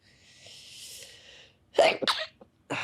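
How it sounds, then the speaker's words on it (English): A sharp intake of breath builds up, then a loud, close sneeze bursts out, followed by a brief second burst. "am I going to sneeze?"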